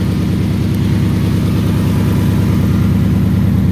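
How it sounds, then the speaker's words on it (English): A 2004 Mustang with a V6-to-V8 engine swap runs steadily, its loud low rhythmic engine pulse holding at a constant idle close by with no talk. "Stop it, stop the engine."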